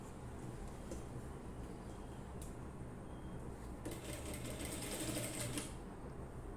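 Sewing machine stitching a simple nightie, running in a steady continuous whir at close range with a louder, busier burst of stitching toward the end, no voices.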